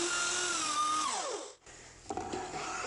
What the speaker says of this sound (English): Sometimes you can just let the router bit spin free and that stuff will fly off of there.